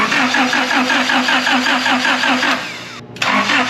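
A Honda Prelude engine cranks with a rapid, regular starter whir, rising and strained for over two seconds, then catches briefly after a short gap, loud and close with no voices.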